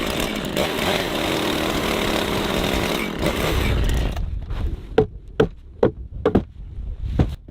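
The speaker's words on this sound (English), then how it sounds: "Making holes for the railing posts with the drill machine." A drill boring holes for wooden porch railing posts on a log cabin build in the mountains: a loud, continuous motor whine for about four seconds, followed by a run of sharp, separate knocks and taps.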